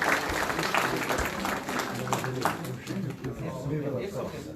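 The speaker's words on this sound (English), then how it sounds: "Clapping is very slow." A seated audience at an inauguration gives sustained clapping for a guest, a steady mass of many hands close by with speech-like murmur mixed in throughout.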